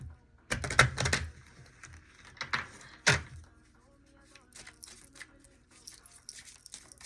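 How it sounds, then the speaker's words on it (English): Cards riffle and snap in quick bursts, a couple of sharp shuffles followed by softer fiddling and tapping, close up. "Let's shuffle these really good."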